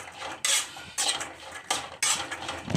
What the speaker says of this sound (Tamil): இதை நான் இப்படி கிளறி விட்டேன்